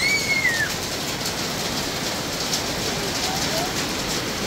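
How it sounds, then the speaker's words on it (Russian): Heavy rain pours down outside a cafe in Lviv's old town, a steady close hiss of falling water that fills the whole clip, with one brief bird chirp near the start. "У нас ливень пошел."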